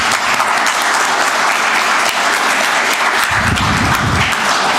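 A roomful of people at a county commission meeting breaks into steady, dense applause, loud and close, clapping continuously with no voices over it.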